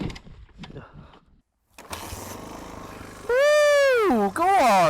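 A Yamaha WR400F dirt bike engine catches and revs up hard on a green lane, a loud, near rising and falling whine that starts after some brief clunks and a short silence.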